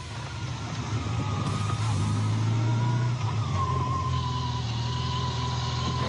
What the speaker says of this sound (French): La voiture est escortée jusqu'à cette sortie qui mène tout droit au parking du peloton motorisé.